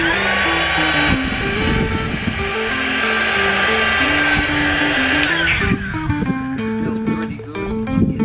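An electric air pump inflates a Hacienda single-person inflatable kayak, giving a loud, steady mechanical whine and drone that runs continuously, then cuts off abruptly partway through, leaving quieter rattling sounds.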